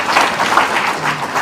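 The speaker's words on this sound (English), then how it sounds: "Can we clap for them also?" Audience applause at a justice and peace gathering with church figures, steady dense clapping from a crowd throughout, fairly loud and close, with no talk over it.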